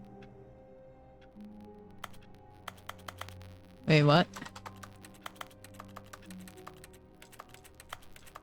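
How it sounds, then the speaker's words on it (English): Keyboard typing clicks from The Stanley Parable video game tap steadily as a series of sharp, quiet ticks scattered through the clip, with a brief voice interjection in the middle. "When I press E, why is it keyboard noises?"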